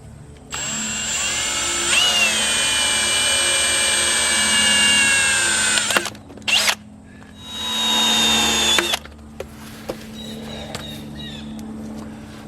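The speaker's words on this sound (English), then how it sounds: "I'm going to go ahead and drill a hole in them" A loud drill whines through metal parts during a ZF5 transmission teardown in a long sustained run, stops, gives a few short bursts, then drills again before falling quiet.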